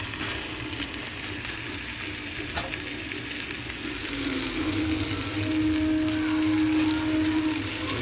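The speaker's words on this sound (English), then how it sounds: "Stir that around for a bit." Curried watermelon rind stir-frying in a pan, a dense, even sizzle close up with a faint thump early on and a brief tonal hum rising in the background toward the end.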